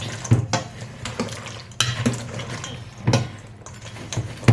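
A spoon stirs homemade fruitcake mixture of soaked dry fruit in a bowl, producing repeated close scraping and knocking strokes, roughly one every second, with no talking.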